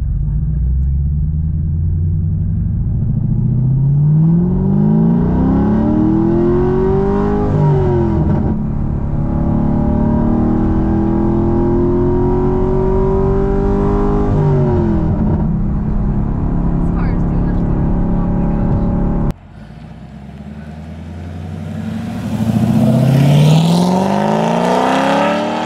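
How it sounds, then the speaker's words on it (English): A 500 hp Corvette accelerates hard through rising, falling revs with a loud rumbling exhaust, passes and fades, then roars up again close by; a voice talks in places. "We're going somewhere to where I can hear this car fly by."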